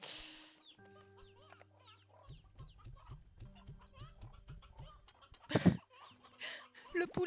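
Several cartoonish chicken clucks from the video game Slime Rancher 2, quick bursty clucks with a rhythmic run of bouncy pulses, layered game sounds, and a louder squawk near the end.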